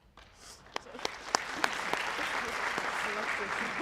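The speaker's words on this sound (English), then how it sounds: "Class of 22, let's give ourselves a round of applause" A group of student athletes from a soccer club's Class of 2022 break into applause, sparse claps at first swelling into a sustained, fairly distant ovation, with some voices mixed in.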